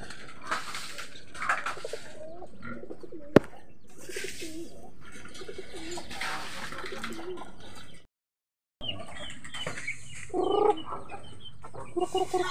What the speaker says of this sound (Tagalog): Tsaka yung bigay sa atin na manok din.